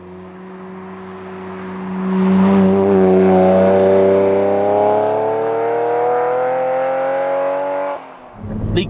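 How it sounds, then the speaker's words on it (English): A 30-something-year-old Ferrari Testarossa 12-cylinder engine while driving: a loud, close engine note swells as it pulls, with its pitch rising smoothly over several seconds before easing off near the end. "It's a 30-something-year-old 12-cylinder Ferrari."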